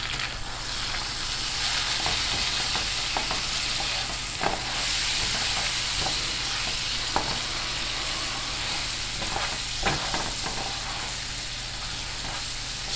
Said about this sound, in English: So we're going to go ahead and stir this around in the butter.